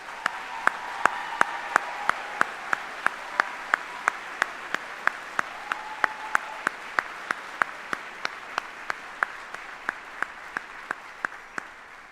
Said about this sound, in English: please again, join me in a round of applause for these 45 soldiers.